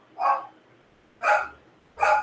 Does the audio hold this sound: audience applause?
no